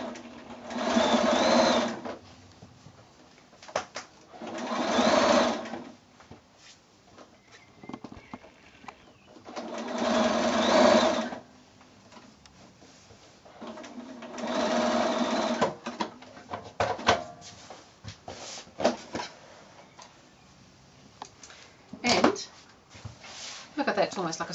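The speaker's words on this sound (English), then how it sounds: "And now I'm going to stitch that across the end." A sewing machine stitches across the end of a drawstring bag in several separate bursts of a few seconds each, up close, with quieter handling noises and pauses between the runs.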